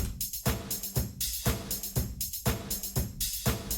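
Beginner producer drum loop with the shaker swapped out for a different hi-hat sound, punchy kicks and snares repeating in a steady, even groove with bright ticking hats between the hits, alone and close.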